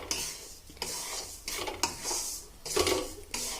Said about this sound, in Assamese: এতিয়া কাজু আৰু কিশমিশখিনি আকৌ 2 মিনিট ভাজি দিম